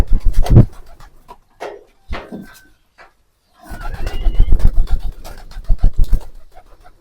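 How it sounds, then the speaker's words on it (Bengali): Domestic pigeons in a home loft with young chicks coo in low, throaty bursts, close by. The calls come in uneven clusters with short pauses, and a louder stretch of overlapping cooing and rustling follows. "তাহলে আপনাদের কবুতরগুলো দেখা"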